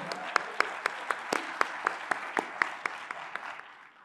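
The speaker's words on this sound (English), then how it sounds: "On peut continuer à les applaudir jusqu'à ce qu'ils" Light, rhythmic clapping from a conference audience at a creative-economy business event in Côte d'Ivoire, a dozen or so sharp claps at a steady pace that thin out and fade toward the end.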